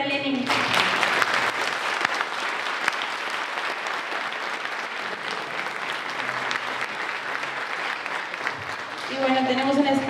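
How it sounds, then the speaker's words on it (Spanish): A security conference audience claps for a presenter named Lenin, a long, dense round of applause filling the room at a steady level, with a voice briefly heard at the very start and again as it ends. "Un aplauso para Lenin."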